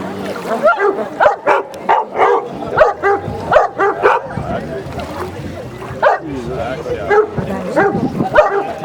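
Several dogs bark in quick repeated bursts close by, with yips and whimpers mixed in, beside a boat and its motor, while people talk over and between the barks.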